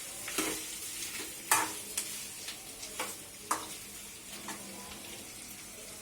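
Potatoes fry in a kadai while a utensil stirs them, giving repeated scraping strokes over a steady sizzle, close up and with no talking.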